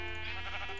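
A sheep in the video game Minecraft lets out one short, wavering bleat, heard clearly and close against a steady game background.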